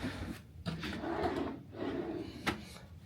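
A drawer slides open and shut in a cruise ship cabin on Star of the Seas, soft scraping glides with a light knock at the end, quiet and close.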